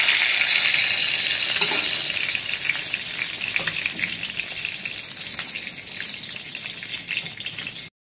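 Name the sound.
eggplant slices frying in mustard oil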